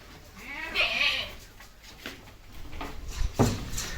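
A local goat on a goat farm gives one clear bleat near the start, followed by scattered knocks and shuffling from nearby livestock at moderate volume.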